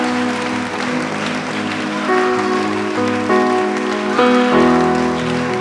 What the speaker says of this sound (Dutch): Laat ons voor de Heer klappen.